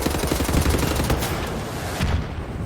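Rapid automatic gunfire in the Wolfenstein: The New Order video game, a dense sustained burst of shots for most of the span, easing briefly before another volley near the end, with no talking over it.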